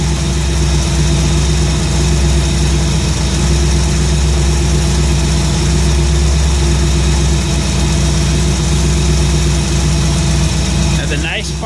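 A Ford 302 V8 in an F100 pickup idles a little fast, a loud, steady close-up rumble with even rhythmic pulsing that continues unbroken, with a brief clatter at the very end.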